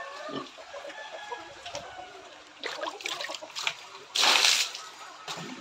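Chicken pecking and sipping at water, with soft splashes and light clucks nearby, ending in a brief louder splash.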